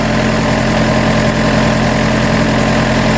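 A Yanmar 45 hp tractor runs at about 1500 rpm driving a borehole water pump through its PTO, a loud, close, steady diesel drone with constant low throb and vibration, uninterrupted by speech.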